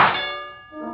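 A rifle round striking a metal target at a shooting gallery, giving one sharp bright clang that rings on briefly with a clear metallic tone before fading.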